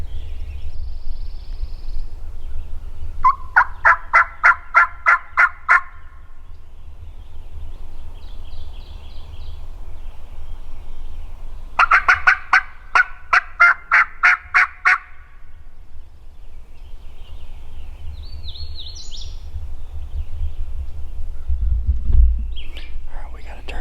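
Two bursts of rapid wild turkey gobbling in Arkansas woods on opening day, each a rattling string of calls from some distance, over a quiet outdoor background with faint bird calls and a low murmur.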